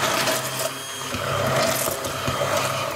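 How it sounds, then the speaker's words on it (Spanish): A kitchen blender purées the sauce for a stuffed Christmas pork loin until fine, giving a continuous, fairly loud motor whir with a churning texture and no voices. "Voy a triturar hasta que se quede bien fina."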